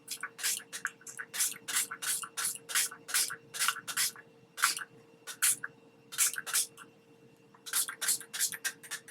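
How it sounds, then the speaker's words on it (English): Quick bursts of hissing spray from a spray bottle of alcohol repeat in an irregular rhythm, roughly a dozen short squirts close by, with a faint steady hum underneath. "So I'm just going to spray the front"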